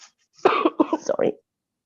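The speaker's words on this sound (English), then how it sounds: "Sorry, coughing fit" A person coughing in a quiet room during an online English class, a short fit of three or four harsh, close coughs in quick succession, then silence.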